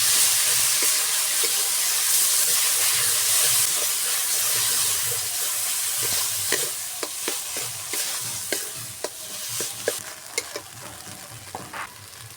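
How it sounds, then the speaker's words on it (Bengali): Banana flower paste goes into a pan of hot oil with garlic paste and five-spice tempering, sizzling loudly and then stirred with scraping clicks as the hiss gradually softens, no talk. "এবার মোচা বাটা দিয়ে দেবো।"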